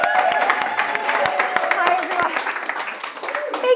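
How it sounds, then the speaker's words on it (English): A live event audience applauds to welcome Beth Eggleston to the stage: dense, loud clapping with scattered sharp claps and a few crowd voices mixed in, sustained for a few seconds. "ladies and gentlemen, a huge round of applause."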